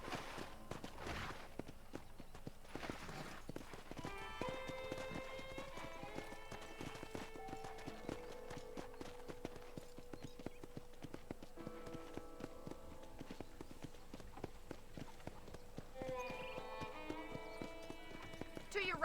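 Horse hooves clip-clop steadily during riding in Red Dead Redemption, a video game, mixed with rhythmic tack and gear sounds and a faint melodic score playing underneath throughout.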